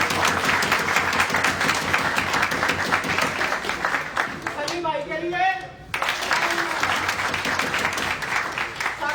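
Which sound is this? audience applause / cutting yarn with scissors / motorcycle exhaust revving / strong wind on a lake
audience applause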